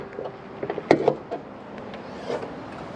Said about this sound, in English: I'll just pop the hood or the bonnet